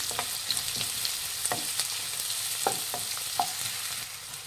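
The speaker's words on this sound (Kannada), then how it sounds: "ಎಣ್ಣೆ ಕಾಯ್ದಿದೆ. ಒಂದು 3 ಈರುಳ್ಳಿನ ಉದ್ದುದ್ದು ಕಟ್ ಮಾಡಿಬಿಟ್ಟು ಹಾಕಿದ್ದೀನಿ" Three lengthwise-sliced onions fry in hot oil, producing a continuous moderate sizzle broken by several distinct clinks and scrapes of stirring; no voices.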